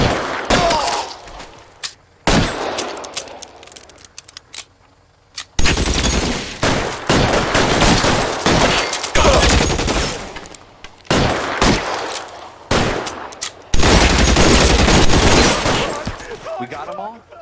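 Bursts of gunfire from the video game L.A. Noire VR, rapid volleys of shots coming in several loud clusters with short gaps between them, while voices shout over the shooting.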